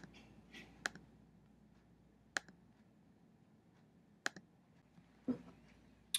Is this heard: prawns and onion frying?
no